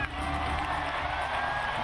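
Spectators at a Paris 2016 paraclimbing world championship cheer and whoop in the arena, a continuous loud crowd roar with scattered shouts rising above it.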